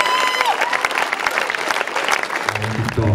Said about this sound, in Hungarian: Nagy tapsot kérünk szépen a táncosoknak